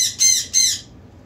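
A pet bird that has been tearing apart cardboard gives two sharp, loud squawks in quick succession, close by, with nothing else heard.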